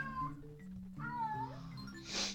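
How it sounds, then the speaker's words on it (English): A female domestic cat in heat howls close by, long wavering yowls that rise and fall in pitch, ending with a short hissing burst. "My cat is howling."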